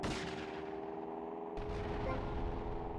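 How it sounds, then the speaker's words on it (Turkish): Gunfire from an odd weapon in the video game GTA Vice City, a dense rapid volley of loud game shots that cuts briefly then resumes with heavy low booms, with no talking. "Garip bir silahla sıkıldı bana. Çok fena da sıkıyorlar."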